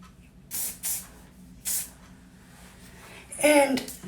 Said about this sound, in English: I'm just gonna spray lightly again.